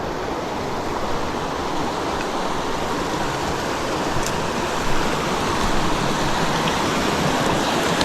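Small creek tumbling along the bottom of a canyon on the Moose River route in northern BC, a steady broadband rush of flowing water that stays even and close throughout with no voices.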